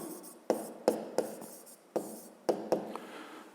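A pen or pencil writing by hand on squared paper while working a school geometry exercise, heard as a series of quiet, close scratching strokes and taps at irregular intervals, with no talking.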